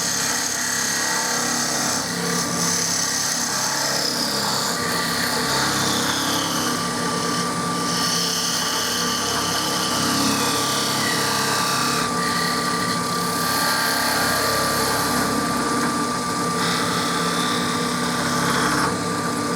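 A woodturning lathe runs steadily as a tool makes an angled parting cut and a relief cut into the spinning workpiece. The whir is continuous and fairly loud, with a faint scraping hiss running through it.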